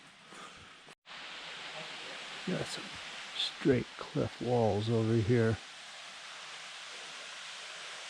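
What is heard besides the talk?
waterfall and flowing water in canyon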